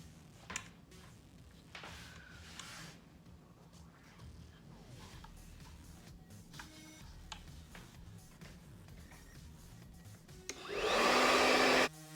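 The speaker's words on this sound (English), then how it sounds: "So when you turn off the dryer like this" A hair dryer with a diffuser switches on near the end with a loud blowing whoosh, after quiet room sounds and a few faint clicks.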